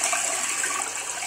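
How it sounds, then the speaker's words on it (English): A Bemis toilet in a hotel bathroom flushes with a steady, loud rushing gush of water, heard close and alone. "we flush the toilet."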